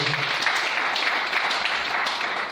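A church congregation applauds together in a steady, dense wash of clapping that holds evenly for a couple of seconds, close and fairly loud, with no voices standing out.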